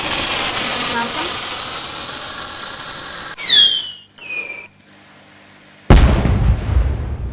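A firework rocket goes off: two or three whistling, falling squeals, a short quiet, then a loud sharp bang with crackling that fades out. Steady rushing noise comes before it.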